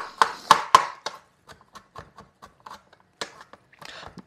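Knife chopping two garlic cloves on a board: three sharp, loud opening cuts, then a run of quicker, softer taps with short pauses, close up and without speech.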